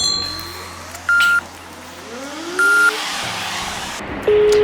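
A call goes out from a phone, with short ringback tones repeating at intervals over a steady car-like background hum and a brief beep near the end; no one speaks.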